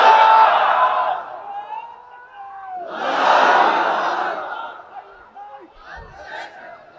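A crowd at an outdoor Bangla religious sermon gathering roars in unison twice in response to the preacher, each swell of massed voices rising loudly then fading, with a quieter shout near the end.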